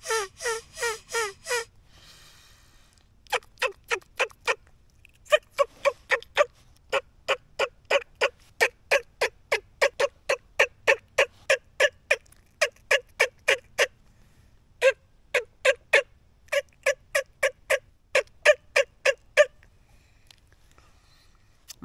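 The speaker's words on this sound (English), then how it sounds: "You want to blow through your diaphragm to get that yelp and those cuts." A turkey call blown through the mouth gives sharp, close yelps and fast cuts, delivered in quick rhythmic runs of clucks that break off with short pauses between the series.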